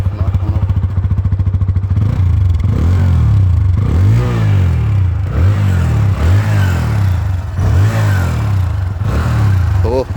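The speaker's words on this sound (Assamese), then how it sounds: "গাড়ী একজষ্টৰ চাউণ্ডটো" Apache RTR 160 motorcycle engine starting and idling with a rough exhaust note, then blipped through several sharp revs that rise and fall, loud and close.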